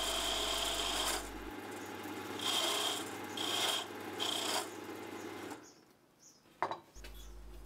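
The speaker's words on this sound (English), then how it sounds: "Back to the gouge to round off the handle ends." A gouge cuts and rounds the ends of a wooden handle spinning on a cheap wood lathe, making a steady rasping scrape in several pulsing passes before the cutting stops and the motor hum fades, no voices.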